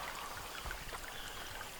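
Soft continuous babble of water flowing in a gorge stream, a faint, even trickling wash heard from a short distance with no voices.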